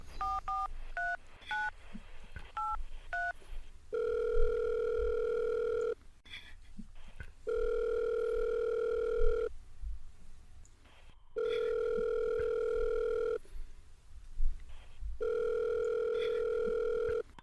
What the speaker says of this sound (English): I'll go ahead and dial him in